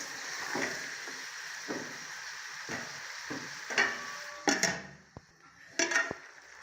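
Turnip curry with pickle being stirred in a pan after fresh coriander goes in, soft frying sizzle under repeated scraping strokes of a spoon, with a few sharper knocks and clatters toward the end.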